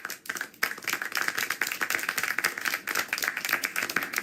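Quick, dense clapping from a character in the video game Syberia The World Before, rattling along steadily for several seconds at a fairly close, moderate level with no voices over it.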